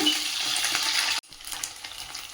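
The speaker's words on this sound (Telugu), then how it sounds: "ఈ ఎగ్స్ కూడా వేసేస్తున్నా వేసేసి ఒక టూ మినిట్స్ ఫ్రై చేద్దాం" Eggs frying in hot oil in a pan make a close, steady crackling sizzle that cuts off abruptly midway, then returns more faintly.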